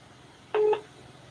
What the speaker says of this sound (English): I have to dial this person on my phone.